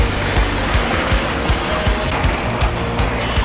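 Waves pushed up by a passing boat slap rhythmically against a sailboat's hull, a quick series of loud, close splashes over steady water rush.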